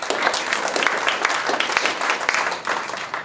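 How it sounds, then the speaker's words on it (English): An audience at a town hall meeting applauds, a continuous crackle of many hands clapping at moderate loudness that keeps going evenly from start to finish. "that's worth a round of applause, yeah."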